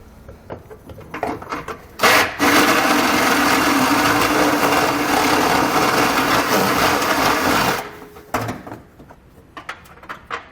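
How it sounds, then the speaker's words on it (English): A burr bit in a power drill grinds out a hole in the steel frame of a 2020 Mazda MX-5 Miata, one loud, steady whining burst of about six seconds, with quieter workshop clatter before and after. "So we're going to take our burr bit here, we're just going to open up the hole a little bit on each side there."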